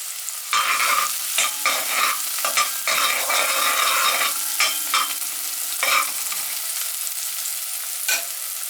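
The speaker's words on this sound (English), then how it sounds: "Just now you can put the onions in there." Onions fry with curry powder in a pan for Jamaican curry mutton, giving a close, crackling sizzle broken by repeated scraping strokes of stirring. The stirring eases off toward the end and no one speaks.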